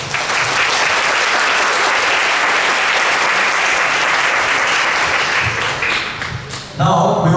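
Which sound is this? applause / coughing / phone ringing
applause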